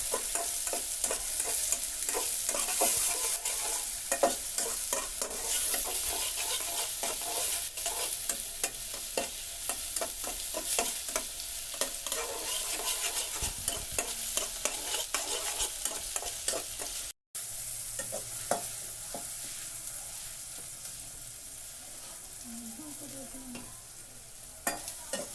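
Chopped coriander and tomatoes fry in hot oil and get stirred, giving a continuous close sizzle broken by frequent scraping clicks. The sizzle is dense at first and thins later, with no one talking.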